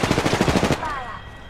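Rapid video-game machine-gun fire, a loud close burst of about a dozen shots that stops abruptly and leaves a short ringing tail.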